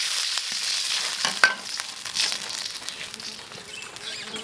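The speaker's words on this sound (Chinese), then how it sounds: "郫县豆瓣酱再给它炒一下" Pixian chili bean paste stir-frying in a hot wok, a crackling sizzle with scraping stirs and a sharp spatula clack partway through, close and fairly loud, with no talk.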